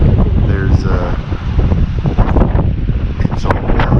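Strong wind blowing dust in the Texas desert roars and buffets the microphone with loud, gusting rumble, while a voice speaks intermittently underneath.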